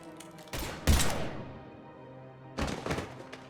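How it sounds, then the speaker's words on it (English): Gunfire in Mass Effect 3 comes as a few sharp bursts, one cluster early, a heavier hit near the first second, then another burst toward the end, with quieter reverberant gaps between. "Now open fire!"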